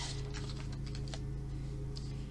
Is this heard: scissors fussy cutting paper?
yes